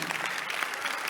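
A church congregation claps during a sermon, a dense burst of applause that fills the short moment.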